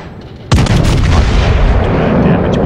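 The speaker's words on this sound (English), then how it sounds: "Do bad damage with these guns." Gneisenau battleship guns firing in a naval combat video game: one sudden loud boom after a quiet lead-in, then a long rolling rumble of the salvo.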